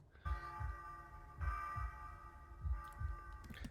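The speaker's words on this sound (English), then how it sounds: "Not a fan of heartbeats though, me." A slow, low thudding heartbeat from an album track, six paired beats pulsing steadily beneath a sustained droning hum and faint high tones.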